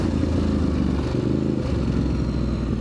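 A Ducati DesertX adventure motorcycle ridden off-road in enduro mode at an adventure camp, its engine droning steadily and close with rattling and scraping over rough ground throughout.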